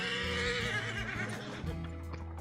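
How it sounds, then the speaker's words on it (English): A horse neighs in a long, loud whinny that quavers and falls away, followed by softer snorts and faint hoof sounds. "I'm gonna get my horse."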